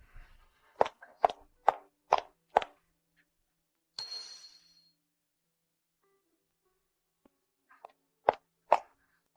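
A series of sharp glassy knocks and clinks, then a bright ringing clatter as something tips, followed by quiet and a couple more light taps.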